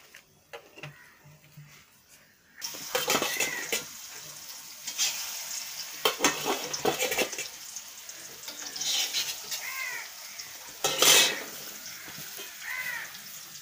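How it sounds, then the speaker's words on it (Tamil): Sala fish fries in a pan with an uneven, crackling sizzle that starts abruptly and swells and dips. Crows caw repeatedly outside over the cooking. "ஒரு பக்கம் மீன் குழம்பு, ஒரு பக்கம் மீன் பொரிச்சிட்ருக்கேன். ரெண்டுமே சாலை மீன் தான்."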